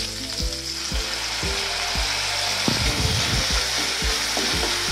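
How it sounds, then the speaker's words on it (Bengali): Vegetables with capsicum and sauce stir-frying for Korean japchae, a dense continuous sizzle layered with regular knocking and scraping of the utensil against the pan, close and loud, no voices. "দিয়ে তারপর আমরা এটাকে ফ্রাই করব"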